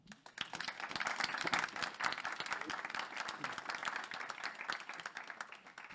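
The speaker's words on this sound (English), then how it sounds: "I think, the panelists deserve a nice applause" A conference audience claps for a panel on Scandinavian market entry, dense sustained applause from a crowd in a hall, even and steady throughout.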